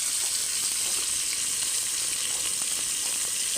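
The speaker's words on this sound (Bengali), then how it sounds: "এখন আমি মাছগুলি সবগুলি ভেজে নেব।" Pangas fish frying in hot oil gives a steady, dense sizzle that stays loud and close throughout, with no voices over it.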